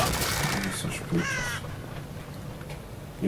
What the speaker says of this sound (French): Il y a des corbeaux.